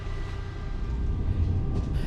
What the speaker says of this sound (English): So we're on this tram to the end of the line